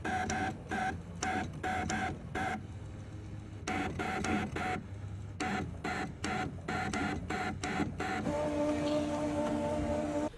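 A Brother ScanNCut cutting machine draws with a glue pen, its motors whirring and buzzing in short, stop-start bursts with brief pauses as the carriage moves back and forth nearby.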